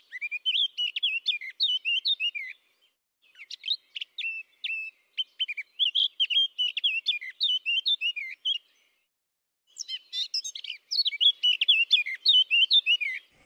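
A Eurasian blackcap sings clear, close phrases of rapid, scratchy warbling, repeated in bursts with short silent pauses between them, alone without other sound.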